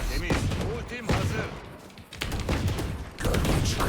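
Gunfire comes from behind smoke in a crowded shooter match: dense bursts of shots and thuds crackle close and loud, with a brief lull in the middle, while players talk over them.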